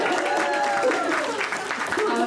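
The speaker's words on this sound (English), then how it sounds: "Can we just give a little clap for Cecily?" Audience at a Q&A gives a short burst of applause, dense steady clapping throughout with some voices mixed in.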